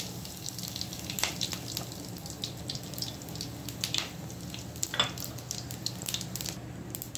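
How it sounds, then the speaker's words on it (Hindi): Curry leaves sizzle and crackle in hot oil in a home kitchen, a steady, soft frying hiss with scattered small pops throughout. "अब हम इसमें करी पत्ता डाल देंगे,"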